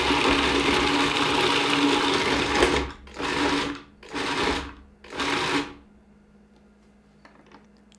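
Food processor whirring through ingredients seasoned with nutmeg and cloves: a long steady run followed by three short separate pulses, then near silence.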